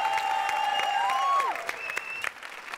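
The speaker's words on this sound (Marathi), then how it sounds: "ह्या दोन घरमालकांसाठी एकदा टाळ्या वाजवा." Studio audience at a Marathi TV comedy show breaks into applause, with musical tones and a sliding whistle-like effect ringing over the clapping for a few seconds.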